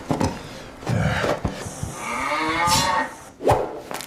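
A cow moos loudly and close by in a long drawn-out low call, with shorter thumps and rubbing noises around it.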